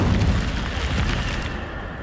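In the video game Hogwarts Legacy, an Incendio fire spell goes off with a loud, deep whooshing boom that rumbles close and then fades slowly over two seconds.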